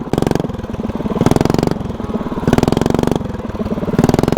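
A lawn mower engine, a vertical-shaft engine mounted horizontally on a lawnmower frame with front suspension, revs hard at redline, loud and close, in a steady pulsing drone that surges in repeated waves.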